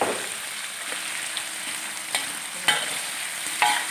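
Tofu and shiitake mushrooms stir-fried with garlic in oil, a continuous sizzle punctuated by a few sharp clicks of a utensil against the pan.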